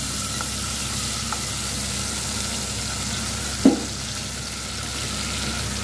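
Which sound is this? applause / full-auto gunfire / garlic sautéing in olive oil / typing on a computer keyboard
garlic sautéing in olive oil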